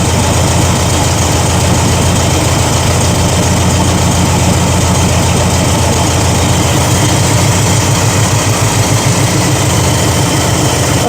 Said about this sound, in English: Whip the throttle just a tiny bit.